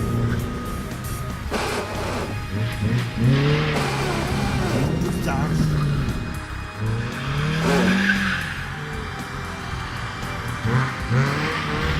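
A car accelerates hard, the engine note climbing and then dropping with each gear change, with tyre squeal through the run. The sound is loud and continuous, close by.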